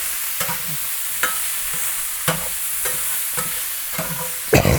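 Chorizo fries and browns in a pan, giving an even, loud sizzle with periodic scraping stirs and a sharper clatter near the end, close up and without voices.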